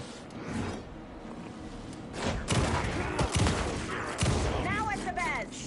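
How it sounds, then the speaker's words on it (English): Gunfire in the video game Alan Wake 2 rattles in rapid bursts and thuds, mixed with chaotic impacts and movement noise, loud and dense throughout. "Anderson, pin him down with gunfire for me to get the light on him"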